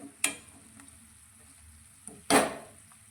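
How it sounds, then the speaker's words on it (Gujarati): Onion, garlic and chillies sauté in a pan for a Kathiyawadi-style roasted brinjal bharta, with two or three short, close sizzling bursts over a faint, steady frying hiss. "આપણા આ ડુંગળી અને લસણ મરચાં સંતળાય છે"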